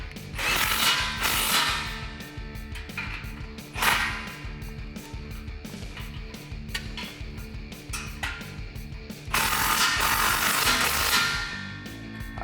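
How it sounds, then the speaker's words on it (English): A 15 mm ratchet socket wrench tightening exhaust bolts on a 2019-2020 RAM 1500 5.7L, with rapid repeated ratchet clicks close by, loud bursts of fast clicking alternating with shorter strokes, and no talking. "now you can grab your 15 socket and tighten these guys down"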